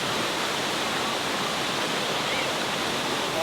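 A waterfall in Pakistan roars as a steady, dense wash of falling water, loud and continuous from nearby with no voices over it.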